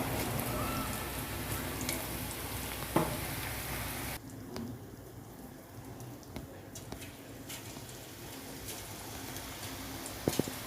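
Onion pakoda frying in oil, a steady broadband sizzle that drops sharply in level partway through as the batter settles, with occasional faint clinks over the quieter bubbling.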